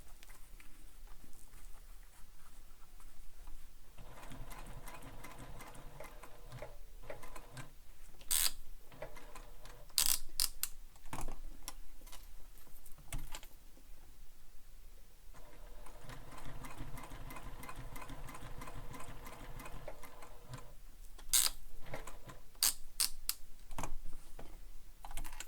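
A home sewing machine stitches a backpack strap in short bursts of motorized whirring and rapid needle clatter, broken by pauses and a few sharp clicks, fairly quiet and close.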